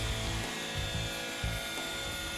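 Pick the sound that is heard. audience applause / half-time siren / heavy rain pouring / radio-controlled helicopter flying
radio-controlled helicopter flying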